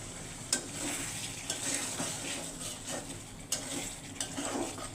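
Okra and singhi fish stir-fried in a pan, with a steady sizzle under repeated sharp scrapes and clinks of a spatula against the pot, close and moderately loud.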